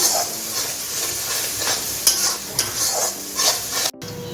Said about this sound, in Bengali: দিয়ে এখন আমি 5 মিনিটের মতো কষিয়ে নিচ্ছি ভালো করে।